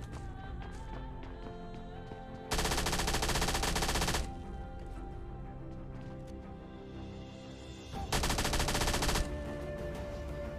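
An S12K shotgun fires in PUBG Mobile Lite, two long dense bursts of gunfire that swamp the quieter background of in-game movement and ambience.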